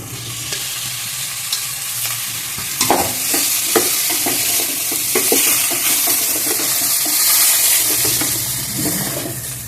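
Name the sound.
frying cauliflower (gobi) in a pan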